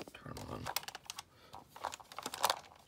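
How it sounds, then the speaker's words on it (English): Repeated small mechanical clicks from the moving robotic arm of a full-scale Buzz Lightyear action figure, a quick irregular patter of close, fairly faint ticks with a voice briefly in the mix. "That clicking noise is his arm."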